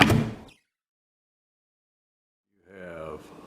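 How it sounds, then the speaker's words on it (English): A pantry door opens, a short sharp burst of sound followed by a long silence, then a creaky groaning tone as the door swings. "But when you open the door,"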